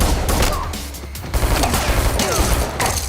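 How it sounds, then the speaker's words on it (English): A TTI Combat Master competition pistol, a modified Glock 34, fires in a John Wick 2 film scene, its reports coming as a dense, loud fusillade of overlapping cracks and booms set against a busy action-movie soundtrack. "he instead draws the Combat Master again and fires 2 shots during the reload sequence"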